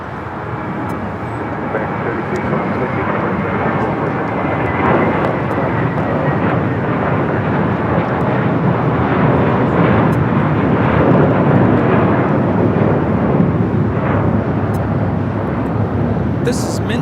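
JetBlue Airways Airbus A321 taking off at LAX, a loud sustained jet roar rising and holding steady across the whole stretch.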